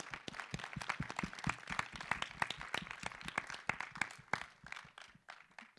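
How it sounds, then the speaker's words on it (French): Audience applause following a talk about a film on Brazil, with dense, uneven clapping from a moderate crowd going on steadily for several seconds, fairly close and not very loud. "Je crois qu'on peut les applaudir."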